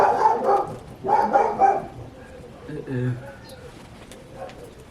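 An excited dog barks in rapid clustered bursts, loud and close at first, then quieter, while a person talks.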